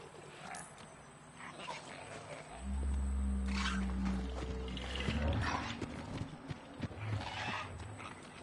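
A creature in the video game Robinson: The Journey lets out a deep, loud, sustained roar at other animals. It rises out of quieter game ambience and lasts a few seconds before fading back.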